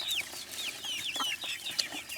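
A flock of chickens, including Rhode Island Reds, clucks and chirps in quick overlapping calls, close and fairly loud, with a busy scatter of short bright notes and no talking.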